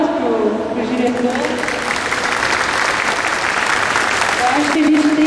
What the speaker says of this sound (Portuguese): Eu gostaria de pedir uma salva de palmas para o diretor.